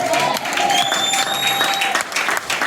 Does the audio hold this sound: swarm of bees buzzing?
no